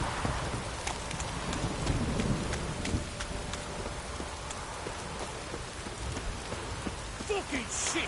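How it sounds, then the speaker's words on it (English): A heavy downpour in the video game The Witcher 3: Wild Hunt, a dense, continuous patter of rain striking surfaces with low rumbles of thunder beneath, steady and enveloping throughout. "This downpour's a bastard, it is."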